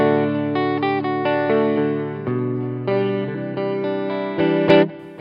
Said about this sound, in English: Let's do a super reverb